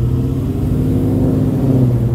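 A BMW M3 E9x with a repaired, re-welded exhaust revs close by, a loud, throaty engine note that holds steady through a short burst.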